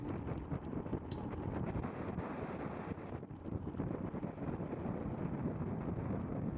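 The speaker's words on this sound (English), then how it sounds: "which all day has had a pretty fierce headwind all up the back stretch here" Hard wind buffets the microphone in a steady, loud roar during a fixed-gear criterium bike race, along a back stretch with a fierce headwind, with no talk.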